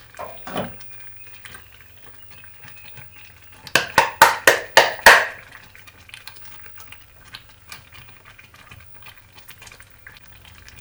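Maize porridge with cinnamon and diced ginger is stirred in a pot, giving a quick burst of five or six sharp, close scrapes and knocks in the middle, with faint bubbling and quiet handling before and after.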